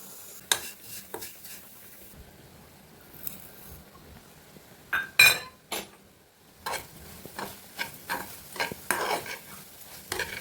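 Vermicelli (shevaya) stirred in a pan for Gudi Padwa offerings: irregular scraping and clinking strokes of a spoon against the pan, close and fairly quiet, with faint sizzling between strokes and no talking.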